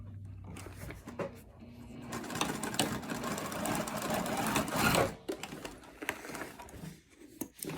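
A sewing machine stitches a wallet near the card slots, running in a fast continuous rattling whir for several seconds, then slowing into shorter stop-start bursts.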